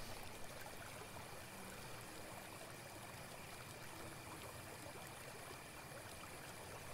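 Flowing water in the video game Fortnite, a steady, quiet rushing stream with no other sounds.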